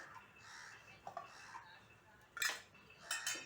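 Cabbage appe being set onto a plate in a home kitchen, heard as a few light clinks of utensil against dish, with sharper bright clatters toward the end over a quiet room.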